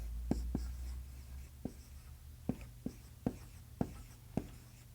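Marker writing on a board, a series of about eight sharp taps and short strokes at an uneven pace, close and fairly quiet against a low background hum.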